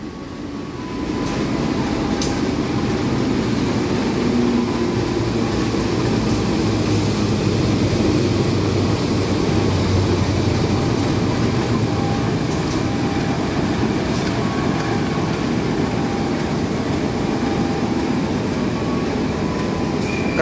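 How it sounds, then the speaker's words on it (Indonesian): The Singosari train rolls into Jatinegara station on track 7, a loud, sustained rumble of wheels and wagons rising after a quiet opening and holding steady, with faint rhythmic clatter and no talk. "Kereta api Singosari saat ini masuk stasiun Jatinegara di jalur"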